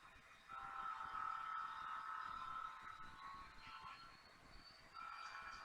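A model train locomotive runs on a home layout, giving a faint, steady mechanical whine and rolling hum with thin squealing tones that fade and return.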